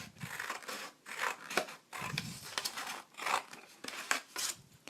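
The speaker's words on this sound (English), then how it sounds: "I'm going to cut along that line." Scissors snip through a folded paper plate in a close, steady series of crunchy cuts with papery crinkling between strokes, while a quiet voice briefly murmurs.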